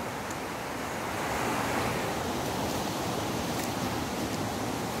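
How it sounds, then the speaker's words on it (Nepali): Water rushes through a hillside irrigation channel fed by a small dam on the way to a temple in Gulmi, Nepal, a steady broadband whoosh, close and unbroken, with some wind buffeting and no talking. "यता चाहिँ बाँध बाँधेर यसरी बनाएको छ कुलोको लागि पानी लान भनेर."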